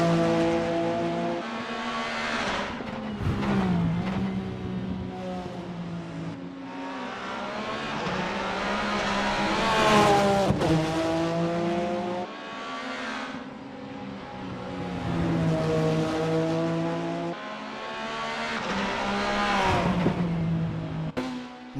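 A touring race car in the VRC Super Tourer racing game, 1990s BTCC style, laps Autodromo Buenos Aires. The engine screams loud and close, rising through the gears and dropping as it shifts and brakes, again and again.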